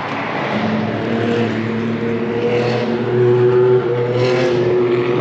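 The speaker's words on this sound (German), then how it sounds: "Hier kommt jetzt die nächste Rennserie." Endurance race cars roar past at the Spa-Francorchamps circuit during the 24-hour race weekend, a loud continuous engine drone with sustained tones that swell and fade slightly as cars pass, with no talking.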